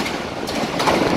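Allama Iqbal Express passenger train running toward Sialkot Junction in rainy weather, a short, steady rumbling roar of moving rail cars with a faint rhythmic clatter.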